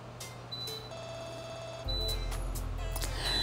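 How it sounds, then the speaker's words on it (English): Electronic beeping from a full dehumidifier: thin high tones chirp repeatedly over a steady low hum, with no voices. "You guys are hearing my dehumidifier, so I apologize about the beeping in the background."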